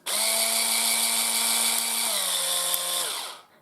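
A cordless electric bathroom and kitchen scrubber runs alone with a steady, high whirring motor hum, dropping slightly in pitch partway through before switching off.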